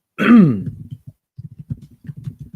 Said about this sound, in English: I'm clearing my throat so much this episode.